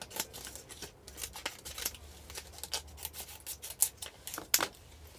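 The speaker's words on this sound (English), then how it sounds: "So I'm going to cut it up and make some plant pot labels." Scissors snipping through a piece of recyclable plastic to make plant pot labels, a run of quick, close, crisp cuts and rubbing scrapes at an uneven pace, with no talking.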